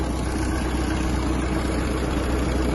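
A Kubota X-20 Japanese mini tractor's small diesel engine idles steadily at close range, a constant low chugging rumble with no change in pace and nothing else audible.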